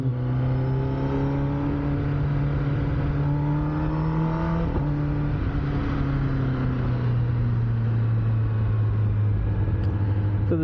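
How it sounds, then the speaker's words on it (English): A 2021 Kawasaki ZX-10R motorcycle with a decat link pipe runs at steady high revs, its loud, continuous engine drone briefly dipping at a quick-shifter upshift partway through. "DECAT makes your quick shifter upshifts sound like gunshots."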